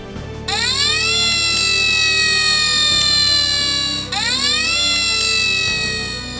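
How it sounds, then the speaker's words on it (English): A loud, high rising-and-falling electronic siren from a toy rescue vehicle wails steadily, restarting once partway through, with a toy-like synthetic tone. "Flynn and Bell left with sirens blazing."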